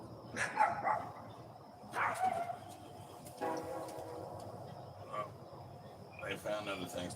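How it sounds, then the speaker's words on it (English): Several dogs barking at neighbouring dogs outdoors in the morning, sharp bursts scattered over several seconds, fairly faint and distant over a low background rumble. "They found other things to bark at."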